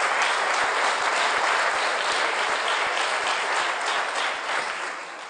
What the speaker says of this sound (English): Please a warm clap for them.